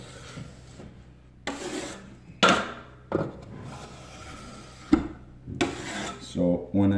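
A 12-inch curved drywall trowel spreading a single coat of joint compound over tape by hand, several distinct rasping scrapes in bursts separated by quieter gaps, close and alone.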